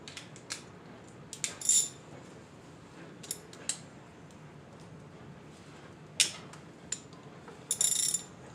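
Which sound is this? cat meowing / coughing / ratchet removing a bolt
ratchet removing a bolt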